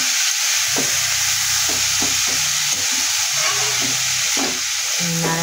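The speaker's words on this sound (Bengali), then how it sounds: "এবার নাড়াচাড়া দিয়ে যতক্ষণ পর্যন্ত এই ফ্যাক আওয়াজটা না যাবে ততক্ষণ থোড়টা চাপা দিয়ে দিয়ে" Shredded banana stem (thor) fries in a pan, giving a constant loud sizzle and hiss broken by repeated scraping strokes as it is stirred and pressed down.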